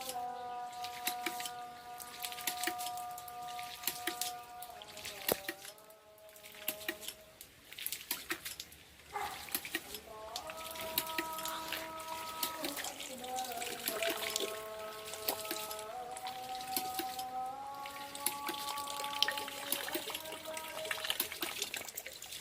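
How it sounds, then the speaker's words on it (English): Water falls and trickles from a ram pump in a continuous splashing flow, heard alongside a steady background melody. "You can see that the water is falling."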